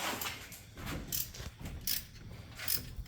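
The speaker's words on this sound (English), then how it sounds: "How tight are we getting these bolts? Very tight." Ratchet tightening engine mount bolts during an LS engine swap into an early GM A-body, a series of close rhythmic clicking pulls, moderately quiet, no talk.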